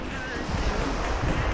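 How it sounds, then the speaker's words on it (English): Steady broadband rush of ocean surf with wind noise, a continuous wash building slightly louder partway through, no voices. "Got a lot of ocean background."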